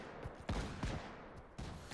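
Musket shots ring out in the Pavlov VR shooter, several sharp cracks spaced irregularly over a couple of seconds, fairly close, with no talk.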